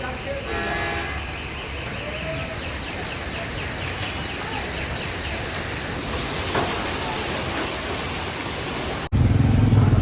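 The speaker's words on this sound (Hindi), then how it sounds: "तो अभी बारिश हो रही है लेकिन ओले कोई नहीं है" Steady rain pours outdoors after a hailstorm, a dense hiss of drops on surfaces continuing throughout, with a faint voice and a brief vehicle tone in the background.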